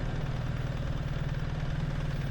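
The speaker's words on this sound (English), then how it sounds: "some owners have described the engine note as mechanical clatter, and to me it sounds more like a fast, rhythmic tapping, and most noticeable when the bike is idling" A BMW R1300GS motorcycle engine idles steadily on its own, a constant low, close drone with a fast, even mechanical pulse and no voices over it.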